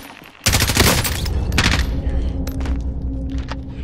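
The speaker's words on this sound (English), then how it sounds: "Somebody's shooting from across." Dense burst of gunfire in the military shooter Call of Duty: Modern Warfare erupts after a brief quiet, sustained rapid shots and crackling reports continuing loudly with scattered louder cracks, a rooftop firefight with distant shooters across.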